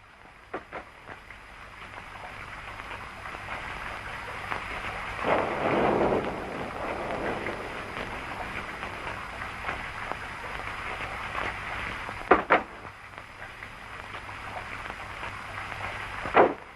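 Steady heavy rain hisses outside a car, with a swell of rushing downpour midway and a couple of sharp cracks of thunder near the end, no talking.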